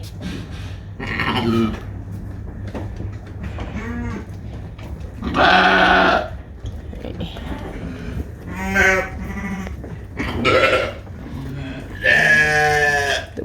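Sheep on a farm in Norway bleat repeatedly, several loud, close, wavering calls spaced a few seconds apart, with quieter animal noises and faint background in between.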